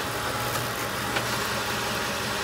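A 1993 Cadillac Coupe DeVille idles steadily as it is shifted into drive, a low, even engine hum with faint clicks, close and unbroken, no voices over it.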